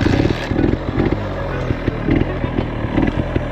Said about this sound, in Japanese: エンジンをかけてスタートしたいと思うんですが